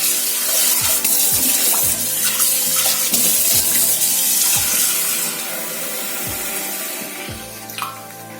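Water poured from a tap into a pot of chicken curry with turmeric: a steady, close splashing stream that thins and settles toward the end, with light sizzling underneath and no talking.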